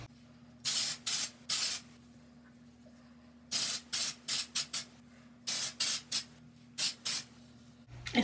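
Tarte dry shampoo is sprayed into hair in a series of short, close aerosol hisses, first three spaced bursts, then a quicker run of about nine bursts after a pause, against a quiet background.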